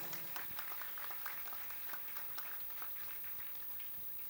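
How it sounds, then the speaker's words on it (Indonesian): Applause from an audience at an Islamic religious gathering with a Gus Khoiron Zaini sermon, faint and distant, a steady patter of many hands clapping for several seconds. "Tepuk tangan semuanya"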